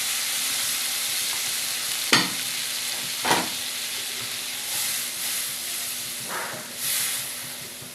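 Water is splashed into a pan of fried masala, setting off sharp bursts of hissing sizzle and steam over a low steady crackle, with several distinct surges as more water goes in; no talking.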